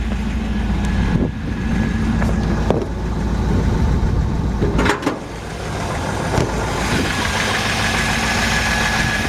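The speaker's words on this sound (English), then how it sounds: "Engine's got a good sound to it." A 1958 Chevy Apache engine idles loud and close, a steady low rumble with a faint knocking pulse and a few clicks and knocks over it, no talk.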